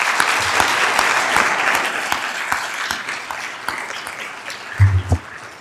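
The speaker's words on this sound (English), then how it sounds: "Let's give him a round of applause." A conference audience gives a round of applause in steady, dense clapping from many hands, with a few louder bumps close to the microphone near the end.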